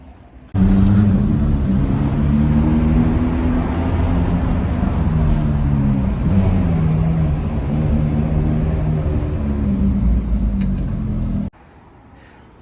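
Ferrari F430 V8 engine running close by, a sudden deep burbling idle that holds steady with a slight rise and fall for about eleven seconds before cutting off abruptly.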